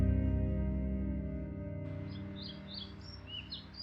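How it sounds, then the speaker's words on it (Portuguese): Birds chirp and sing in short bursts early in the morning in a garden with palm trees in Uruguay, faint and somewhat distant. A low steady hum dominates the opening before the calls begin. "Muitos pássaros cantam cedo aqui."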